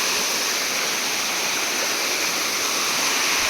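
A small natural spring-fed stream in Vadgaon Patole rushes steadily and close by, a dense continuous flow of splashing water with no voices.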